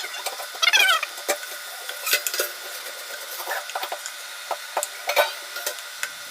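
Spice powders of turmeric, chilli and coriander being stirred and sautéed in a pan for chicken curry, with light sizzling under scattered scraping clicks of a spoon against the pan, close and fairly quiet.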